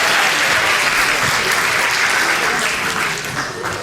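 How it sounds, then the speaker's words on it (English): An audience at a magic show applauds a volunteer, dense, loud clapping filling the space continuously and easing slightly near the end. "Everybody give Paul a big round of applause."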